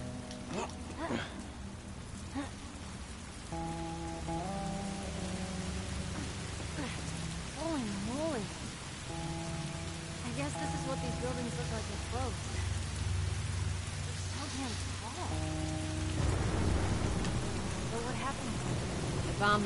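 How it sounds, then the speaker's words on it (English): Steady rain hiss falls in The Last of Us Part II, a broadband wash of raindrops spread across the whole clip, with someone talking over it and tonal game music or effects rising in patches. "You see this, the rain effects?"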